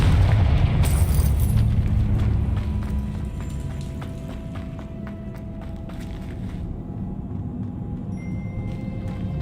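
A Confringo fire spell blast in Hogwarts Legacy sounds as a loud rumbling burst near the start, then decays into a softer lingering roar with scattered crackles and light chimes.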